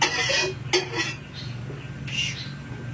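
Cooking oil being stirred around a pan over a lit flame, with several distinct metallic scrapes and clinks of a utensil against the pan over a low steady background hum.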